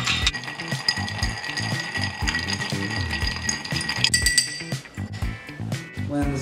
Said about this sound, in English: And we'll stir.